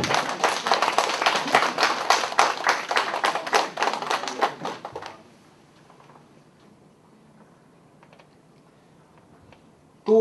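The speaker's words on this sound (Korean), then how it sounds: "지금 어머니한테 우리 박수 한번 보내드립니다" A small audience claps for a mother, a brisk burst of hand clapping lasting about five seconds, then dying away into near silence.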